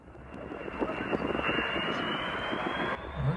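Avro Vulcan jet bomber roars steadily and loudly throughout, a broad sustained engine rush with a constant high whine, no talk over it.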